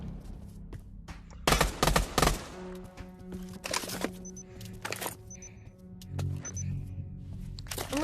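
Video game gunfire crackles in several sharp, loud bursts of rapid shots, separated by quieter stretches of game sounds and faint electronic beeps.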